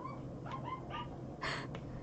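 A dog gives faint, short whimpers and yips in a quiet room, several soft cries in quick succession.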